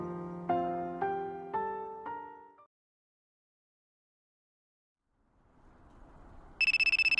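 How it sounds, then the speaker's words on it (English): A phone ringtone in a Fire Emblem Heroes trailer: a few descending melodic tones, a pause of near silence, then a rising shimmer into a bright, loud ring. "My phone rings."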